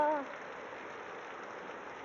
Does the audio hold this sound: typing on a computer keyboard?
no